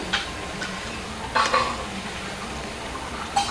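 Ambode lentil fritters frying in oil for a Brahmin-style bajji, giving a steady close sizzle with a few light utensil clinks and scrapes, and no talk.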